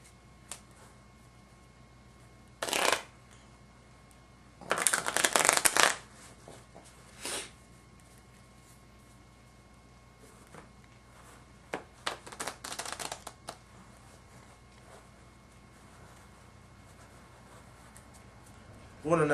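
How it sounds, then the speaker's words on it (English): Playing cards shuffled during an ace assembly card trick, heard as several short riffling bursts of a few seconds each, separated by quiet gaps, with faint handling sounds in between and no talking. "We're going to now shuffle the cards even further by taking 3 cards off the top"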